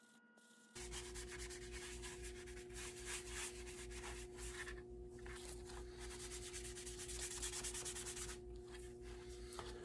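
A painted prop, weathered with an acrylic wash, is rubbed with a rag in a steady, continuous scrubbing rasp that stays close and fairly even throughout, with no talk.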